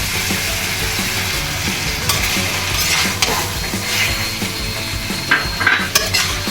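Cashew paste is stirred into green chicken frying in oil, giving a continuous sizzle broken by scraping, clinking spoon strokes against the pan, close and fairly loud.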